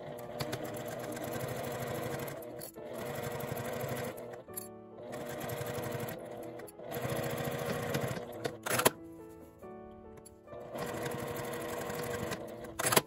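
A sewing machine stitching a wallet seam with a 1 cm seam allowance, running in steady bursts of fast rhythmic whirring, separated by brief pauses and clicks, heard up close.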